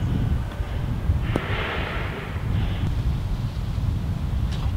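Wind rumbles against the microphone on a golf course, a constant low blustery roar with gusty swells and a faint brief hiss, filling the scene with no talk.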